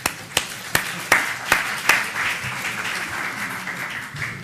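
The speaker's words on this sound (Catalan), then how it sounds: "Aquesta idea mereix un aplaudiment" A few slow, evenly spaced claps ring out at an open-innovation session on public administration, six sharp hits about every 0.4 seconds, then a softer spread of scattered clapping trails off.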